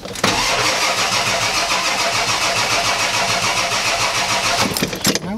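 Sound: Ford F-250 7.3L IDI diesel engine starting

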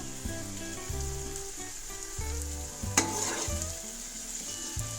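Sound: ginger garlic paste frying in a pan for chicken biryani

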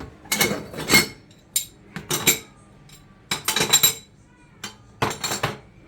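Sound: gas stove burner caps and grates being placed for cleaning

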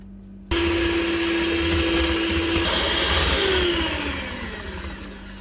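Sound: electric beater beating eggs and sugar until fluffy

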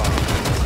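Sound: gunshot in Rainbow Six Siege video game

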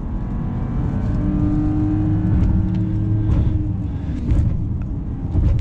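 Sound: 2021 Mercedes GLE 450 engine accelerating

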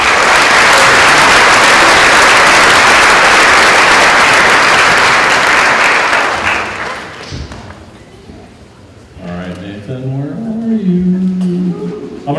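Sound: audience applause at school awards evening

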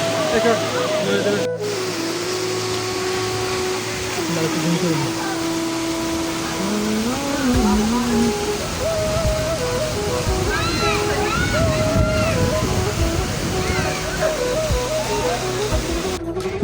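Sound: Rupashi waterfall in Bandarban

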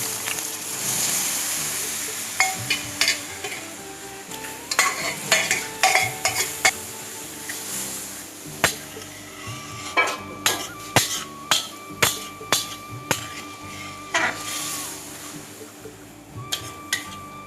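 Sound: stir-frying chicken keema ghugni in a pan

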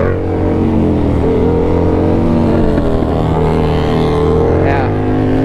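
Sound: motorcycle engine revving

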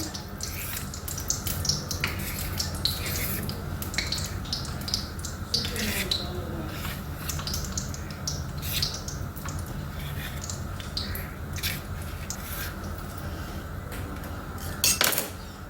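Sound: knife cutting rolled maida flour dough

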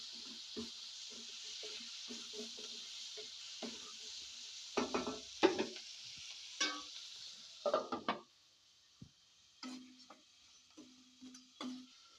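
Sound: tomatoes added to frying onions and drumstick pieces, stirred

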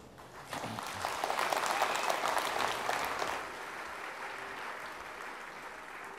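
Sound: graduation crowd clapping, screaming and cheering

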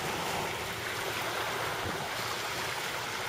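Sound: wind blowing at the seaside while fishing

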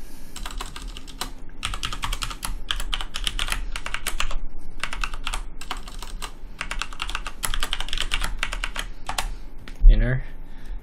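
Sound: typing root password on computer keyboard

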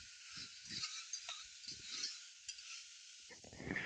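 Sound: vegetables cooking in a pan for vegetable biryani

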